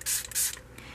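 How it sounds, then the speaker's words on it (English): Two or three short hissing spritzes from a spray bottle misting a hermit crab terrarium, quiet and close, each a brief burst of fine mist. "I have this spray bottle for making their terrarium humid, and it's more like a mister"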